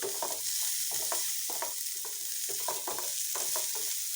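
Ingredients for a homemade pizza sizzle and fry in hot vegetable oil in a pan, with a steady frying hiss and repeated stirring scrapes every half second or so, close and without talk.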